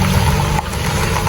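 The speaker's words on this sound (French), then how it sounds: "Il y a un véhicule là qui doit traverser." Vehicle idling as it crosses a busy street in the Bonanjo district of Douala, a loud, close, steady engine rumble mixed into dense outdoor street noise with no speech.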